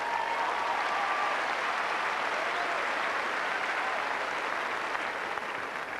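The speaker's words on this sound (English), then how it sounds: "the crowd just responding to the lovely tennis we're seeing out here" Steady, loud applause from a tennis crowd after a point, continuous clapping from start to finish with no talk over it.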